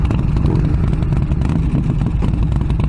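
A 2019 Harley-Davidson Street Rod motorcycle engine running loud and close, a dense continuous throaty rumble with throttle blips, no talking.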